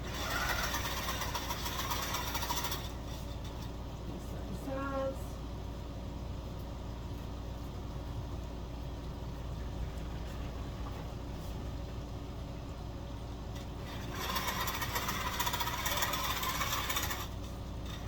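A QCT5 quilting sewing machine stitching a quilt, a dense mechanical whir and rapid knocking that runs continuously, growing harsher at the start and near the end.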